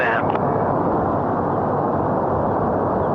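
Soyuz rocket engines roar at ignition for the Progress 94 resupply launch, a dense, steady broadband rumble holding loud and unbroken from start to finish, with a faint tone fading out in the opening moment.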